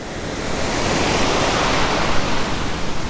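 Steady roar of surf breaking and washing in, a continuous wash of white noise with slight swells, no voices.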